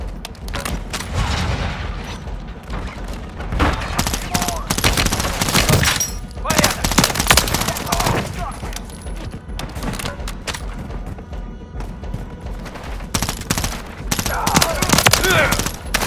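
Heavy automatic gunfire and booming explosions fill a Call of Duty MW3 Zombies high-threat-zone battle, loud bursts in repeated waves with brief lulls, while voices call out orders through the fighting.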